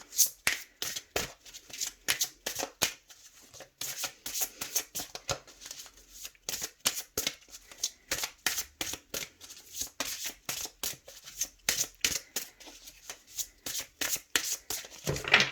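Tarot cards shuffled by hand, with rapid, rhythmic riffling and slapping bursts repeating steadily at close range, then a cut of the deck.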